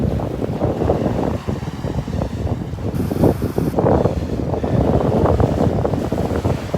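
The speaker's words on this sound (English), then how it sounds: "Ooh, that wind. Man, that wind is something." Strong wind buffets the microphone on the open beach at Delnor-Wiggins, a steady loud roar with gusts, and surf washes faintly beneath it. No one speaks.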